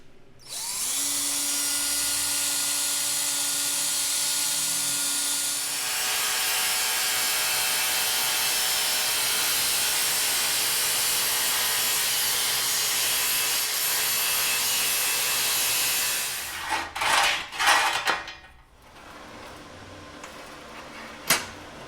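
A portable bandsaw cuts a slot in wood: a loud, steady buzzing saw tone runs close for about seventeen seconds, then breaks into a few short bursts and rattles as the cut ends.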